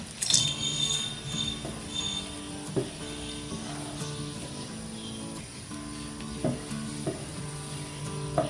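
Mango custard slowly stirred in a pan on the stove, with a steady soft scraping swish and a light simmering sizzle, punctuated by occasional spoon taps against the pan.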